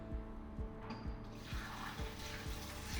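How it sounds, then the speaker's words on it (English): Water runs from a handheld shower hose into the tank of a Trittico gelato machine, a steady broadband rush of splashing and filling, with a repeating low thumping beneath it. "hold the shower and put some water inside the tank"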